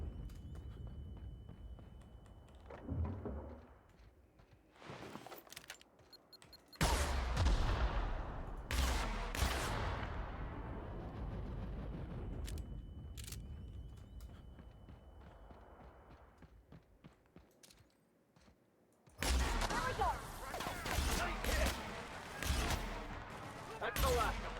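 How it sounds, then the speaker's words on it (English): Grenade blasts and gunfire in The Outer Worlds hit in loud, booming bursts with decaying rumbles and scattered shots between quieter stretches, while a voice talks intermittently. "these guys love just chucking grenades everywhere."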